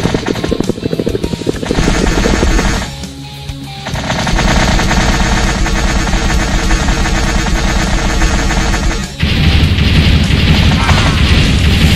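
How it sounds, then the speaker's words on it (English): Machine gun fire in the action game Alpha Guns: loud, continuous rapid bursts with a brief pause, then a long dense stream of shots over game music and sound effects. "Machine gun."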